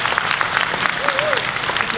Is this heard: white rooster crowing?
no